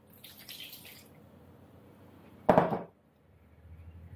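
A cup of water goes into a strawberry cake batter in a home kitchen, making a short, close splash-and-pour burst that lasts under half a second after quiet handling noises, then quiet again.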